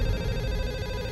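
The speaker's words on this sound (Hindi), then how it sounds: "फोन उठाओ।" A telephone rings steadily in a home, its tone filling the whole short moment at a constant, fairly loud level with no voices over it.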